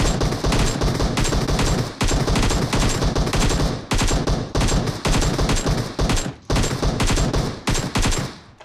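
Rapid automatic gunfire hammering a Kombi van in the video game PUBG: loud, dense bursts of shots in quick rhythm, briefly pausing between volleys across the whole stretch.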